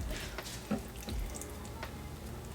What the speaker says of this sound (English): Really moisten up the soil there. Cannot control this water pressure.